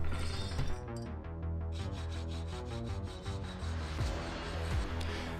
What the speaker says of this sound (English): What I'm doing here is adding artificial wear to the glove.